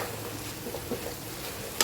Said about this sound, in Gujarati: મસ્ત હલાવી લઈએ.